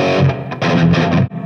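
Electric guitar on a Fender Tone Master Pro preset with reverb plays loud, distorted chord stabs in bursts, ending in a brief lingering decay with no voices.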